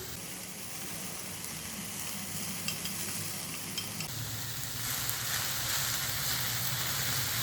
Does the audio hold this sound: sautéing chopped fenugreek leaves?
yes